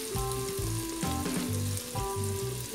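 Bacon sizzles and fries steadily in a large pot for a farofa with bacon and calabresa sausage, a continuous close crackle with no oil added, with rhythmic stirring scrapes and no talking.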